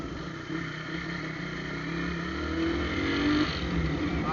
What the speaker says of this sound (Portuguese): Botei acelerando a minha moto pela primeira vez.